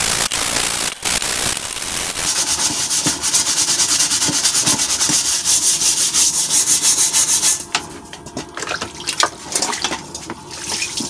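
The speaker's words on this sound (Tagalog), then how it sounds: "pangalawang beses ko nang kuskusin" Steady abrasive scrubbing of soot off a used-oil burning stove, a close, continuous rough rubbing with brief scraping strokes that eases and turns patchier near the end.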